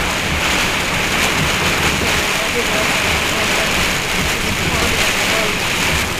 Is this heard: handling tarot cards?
no